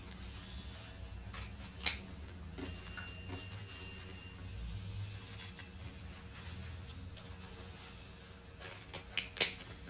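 Scissors cut fabric pieces for a simple pencil box, a few faint, sharp snips separated by quiet handling and soft rustling.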